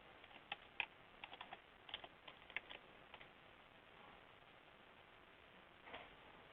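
Quiet keystrokes tap on a computer keyboard in short irregular bursts during login, a few sharper clicks standing out over a low steady hiss, then the typing fades into near silence.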